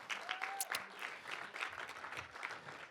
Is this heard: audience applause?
yes